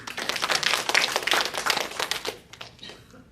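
A church congregation claps together for a few seconds, a dense burst of applause that fades out toward the end.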